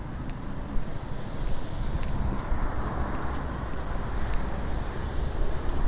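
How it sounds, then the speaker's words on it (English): Wind blowing steadily along a rainy Tokyo street, a continuous broadband rush with gusty swells and a few brief clicks, no voices over it. "Wind."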